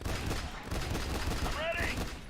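Sustained gunfire from the third-person squad shooter The Bureau: XCOM Declassified, a dense continuous fusillade of shots with battlefield noise and a brief voice underneath.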